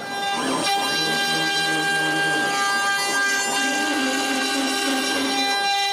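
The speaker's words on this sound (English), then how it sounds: "When the paint is dry, I switch for a bigger bit and cut the oval profile." A CNC router with a larger bit cuts an oval profile into a painted wooden plaque, giving a steady, high, humming whine with a faint grinding edge that holds throughout at close range.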